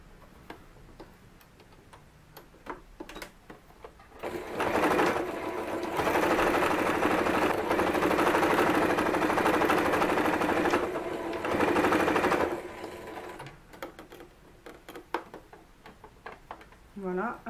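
Sewing machine stitching together the side seams of a ruffled dress, a steady rapid mechanical whir running for about eight seconds at close range, with quieter ticks and handling noises before and after.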